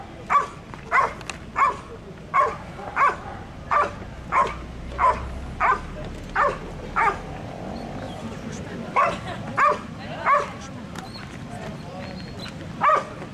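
A firefighters' search-and-rescue dog barks repeatedly at a steady pace, about a dozen sharp barks at moderate distance, with a short pause partway through and faint background noise.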